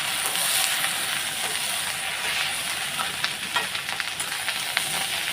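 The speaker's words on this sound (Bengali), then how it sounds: "আলুটা প্লেনই ভাজবো আজকে" Potatoes frying plain with turmeric, a dense, continuous close sizzle with scattered light crackles and stirring scrapes toward the end, no voices.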